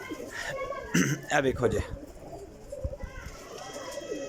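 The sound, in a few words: pigeons cooing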